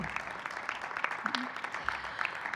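An audience applauds at an adult education event, a brief, moderately loud patter of clapping hands throughout, with a voice briefly heard.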